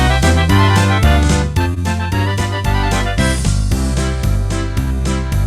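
Polka medley played at tempo 112 in a music class, loud and close, with a bouncy oom-pah bass under busy melodic chords moving from tune to tune without pause.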